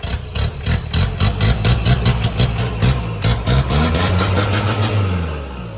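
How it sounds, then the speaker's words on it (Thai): A Ford Ranger 2.5 4x4 pickup's engine is blipped in a quick series of throttle revs, then rises into a longer rev that winds back down, loud and close with no talk. "ดูคันเร่ง ตามเท้าเลยครับ"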